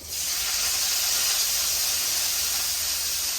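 Mustard seeds, fenugreek, garlic, onion, green chillies and curry leaves sizzling in hot coconut oil, a loud, steady hiss of frying that bursts in at the start and carries on alone.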